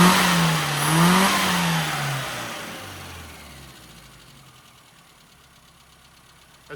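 A car engine revs loudly at first, then the tone falls away and settles into a lower, quieter running hum.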